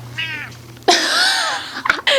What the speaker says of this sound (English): The cat is here too.